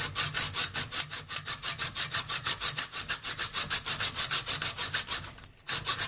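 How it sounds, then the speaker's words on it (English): A hand saw cuts through an M44 rifle's steel barrel in fast, even back-and-forth strokes, a loud, rasping rhythm of about four strokes per second, briefly pausing near the end before resuming. "I have cut the barrel."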